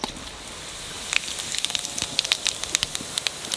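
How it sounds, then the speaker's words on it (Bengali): Cumin seeds dropped into hot oil crackle and sizzle close by, with a steady hiss broken by many quick sharp pops that grow denser over a few seconds, with no talking. "তেলের উপরে কটা জিরে দেবো"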